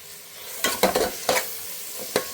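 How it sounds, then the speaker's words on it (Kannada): Tomatoes with a little salt frying in a pan and stirred with a utensil, a steady soft sizzle broken by several sharp scraping strokes at an uneven rhythm, close and clear with no talking. "ಟೊಮೊಟೊನೂ ಕೂಡ ಸಾಫ್ಟ್ ಆಗೋವರೆಗೂ ಸ್ವಲ್ಪ ಹುರ್ಕೊಳ್ಳೋಣ"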